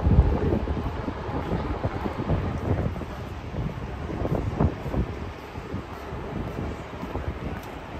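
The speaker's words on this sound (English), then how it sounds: "That's why things are a bit windy and feels like it's very chilly" Wind buffets the microphone near the Hudson River on Manhattan's west side on a chilly November day, a steady low rumble with gusty swells throughout and no one talking.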